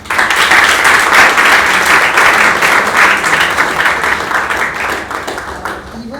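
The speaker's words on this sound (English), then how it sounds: "So a big round of applause again." A hall audience gives a big round of applause for a CAT exam topper, a loud, steady wash of clapping that stays even for about six seconds and fades slightly at the end.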